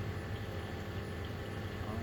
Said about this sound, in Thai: จะรอถ่ายเรืออีกลำหนึ่ง